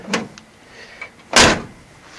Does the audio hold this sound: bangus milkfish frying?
no